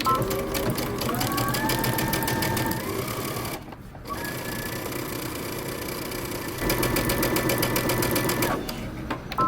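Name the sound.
sewing machine stitching shirt dress front pieces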